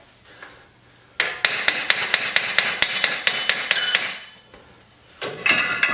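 A hammer taps the steering knuckle of a 2008 Ford Escape off the driver-side CV axle splines. About a dozen sharp metallic strikes land in a quick, steady rhythm, close and loud, then a short pause and a few more blows.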